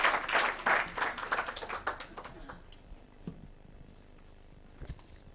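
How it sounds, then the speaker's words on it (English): An audience at a climate justice summer school closing ceremony in Nairobi applauds as a speaker comes on stage; lively clapping fades out over the first few seconds, leaving a quiet room with a few scattered knocks. "kindly, let's give him a round of applause as he comes on stage to welcome us."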